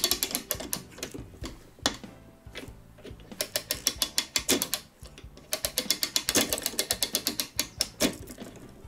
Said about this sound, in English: And then start winding the spring up.